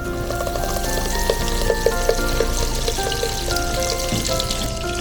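Butter melting in a hot pan with olive oil, a steady crackling sizzle that holds evenly throughout at close range.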